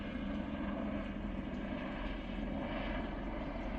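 A helicopter circling overhead produces a steady, droning engine and rotor hum that stays at an even, moderate level throughout with no talk.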